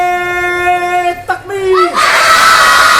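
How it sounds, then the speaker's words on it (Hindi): A man's long drawn-out call leads into a loud unison shout from children gathered at a mosque, chanting the religious slogan Nara-e-Takbir as a burst of massed young voices. "बच्चों और तेजी के साथ नारा लगाएंगे ना, नाराए"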